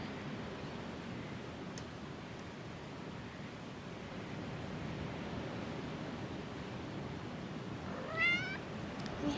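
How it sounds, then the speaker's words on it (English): A friendly cat meows briefly near the end, a short rising call over steady outdoor ocean surf and wind during a yoga session in Madeira, Portugal. "This cat has been following me around all morning."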